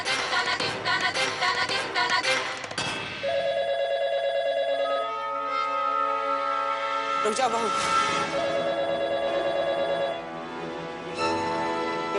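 A telephone rings repeatedly in bursts over background music, with someone speaking briefly near the start.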